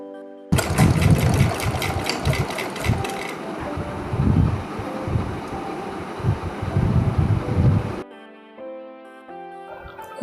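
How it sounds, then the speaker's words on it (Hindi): Sewing machine stitching a binding strip onto a halter-neck baby girl frock, a loud steady mechanical whir with rapid needle chatter running for several seconds, then stopping abruptly as a faint tonal music bed continues. "इस तरह से हम इसे पलट कर सिलाई लगाएंगे"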